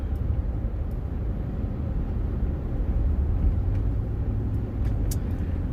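A car cruises along the road, heard from inside as a steady, close low rumble of engine and tires with no pauses.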